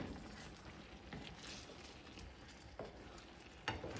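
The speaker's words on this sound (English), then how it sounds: "I'm gonna go ahead and just give this a quick little stir" Tteokbokki being stirred in a pan over low-medium heat, a soft continuous sizzle and scraping with a couple of brief clanks near the end, quiet and close with no talking.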